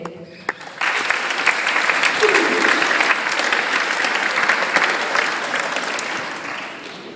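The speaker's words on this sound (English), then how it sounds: "give a huge round of applause to your teachers who brought me here today" Sustained applause from a large crowd of school students clapping for their teachers at an event in Binford, North Dakota, starting abruptly after a short pause and holding at a loud, steady, dense level throughout.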